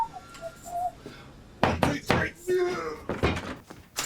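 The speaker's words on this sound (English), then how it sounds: "Australia Post told Choice that their drivers and posties are required to knock 3 times before leaving a card" Knocking on a door, as an Australia Post driver or postie would before leaving a card: a few loud, sharp knocks close by in a short burst, followed by more thumping.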